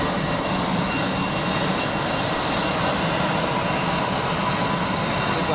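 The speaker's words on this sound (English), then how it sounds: "EasyJet 320 cranking up in front of me, hence the noise." An easyJet Airbus A320 cranking up its jet engines at Geneva Airport, close by, giving a loud, steady, broadband roar that holds without a break.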